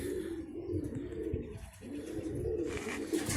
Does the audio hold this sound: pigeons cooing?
yes